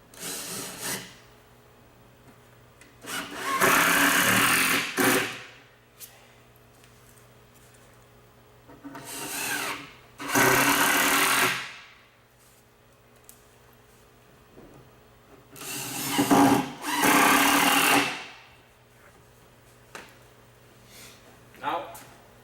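A power drill drives screws into the bottom piece of a bamboo Shaker-style ready-to-assemble Lazy Susan base cabinet, in three loud whirring bursts separated by quiet pauses, close to the microphone.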